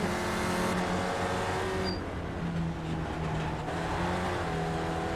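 Spec Racer Ford race car engine in iRacing at Lime Rock Park, damaged and down on power, drones steadily and loudly throughout with a sustained tonal hum, dipping slightly midway as if easing off before holding on again.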